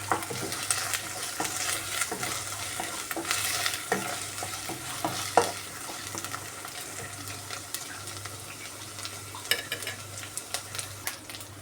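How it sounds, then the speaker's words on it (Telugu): Ginger paste fries in a pan with a continuous close sizzle, broken by soft scraping taps as it is stirred. "పచ్చి వాసన పోయే వరకు బాగా ఫ్రై చేసుకున్నాము."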